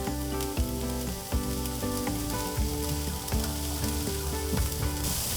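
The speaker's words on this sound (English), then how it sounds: "The onions are just starting to soften, so I'm going to go ahead and add in my garlic." Minced garlic added to softening onions in a pan, with a steady sizzle and frying crackle and some clinking stirring sounds throughout.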